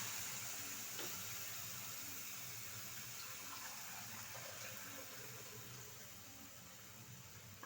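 Water poured steadily onto fried semolina in a pan for chusi pitha, a continuous soft rushing pour that slowly tapers, with no voices over it.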